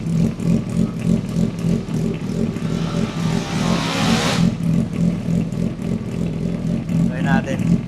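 A Suzuki Hayabusa GSX1300R motorcycle fitted with an SC Project exhaust rumbles steadily nearby, with a surge of rising revs building midway, while people talk over it.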